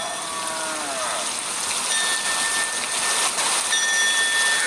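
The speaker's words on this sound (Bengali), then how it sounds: "বাইরে ঝিরঝিরে বৃষ্টি" A light drizzle falls outside, a soft, even hiss of fine rain with a few thin whistling tones drifting over it.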